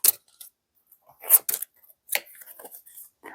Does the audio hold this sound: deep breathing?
no